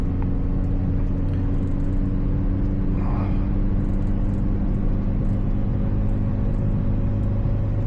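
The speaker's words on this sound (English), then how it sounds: "I will step on the throttle like here. Now down the gear." Renault Twingo small petrol engine pulling after a downshift while climbing a hill, a steady low droning hum and rumble inside the cabin that holds fairly constant and loud throughout, with no voices.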